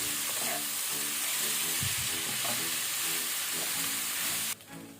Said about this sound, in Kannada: ಈಗ ಇದನ್ನು ಒಳ್ಳೆ ರೀತಿಯೊಮ್ಮೆ ಲೋ ಫ್ಲೇಮಲ್ಲೇ ಮಿಕ್ಸ್ ಮಾಡಿಕೊಳ್ಳುವ